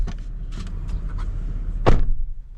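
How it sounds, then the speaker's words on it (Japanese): A door closing on a 2021 Toyota Highlander Platinum, with a single solid thud near the end following some quieter interior rustling and clicks, fairly close. "でドア閉めた音はこんな感じ。"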